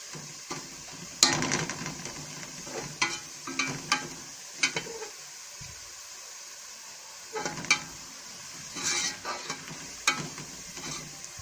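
Onions browning in a pan for an egg and potato curry, with steady frying sizzle broken by repeated scraping stirs and occasional clinks of a spoon on the metal pan, fairly close.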